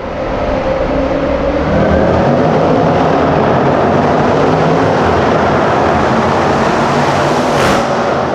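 A 405 kW car roars through a tunnel in a loud, sustained run, its engine noise echoing and building steadily, with a rising whine near the end and no voices.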